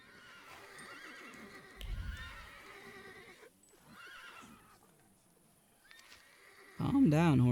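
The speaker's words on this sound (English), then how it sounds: "Calm down, horses." Horses in The Thaumaturge video game snort and shift with soft hoof clops, then one lets out a loud, close whinny at the end, with a voice speaking partway through.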